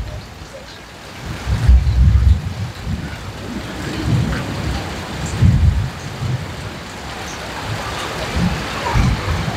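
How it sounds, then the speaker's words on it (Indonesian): Heavy rain pours steadily on a house during a downpour, with deep rumbles of thunder rolling in at intervals beneath the constant hiss of falling water. "tentu sangat bersyukur dengan turunnya hujan"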